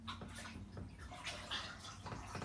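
Bathwater sloshes and splashes steadily and close by as a young child is washed in a bathtub at night, with no talking.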